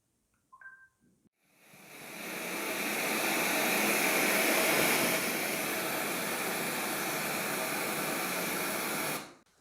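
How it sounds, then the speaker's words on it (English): White noise playing loudly from a Google smart speaker, a steady broadband hiss that swells in after a couple of brief clicks and holds evenly for about seven seconds before cutting off. "I just said to Google, hey, play white noise, and she did, and it was loud"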